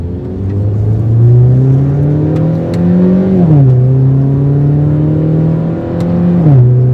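An R56 Mini Cooper S fitted with EBC YellowStuff brake pads accelerates on an open road, its engine note loud and close, climbing steadily with brief dips at each gear change before rising again.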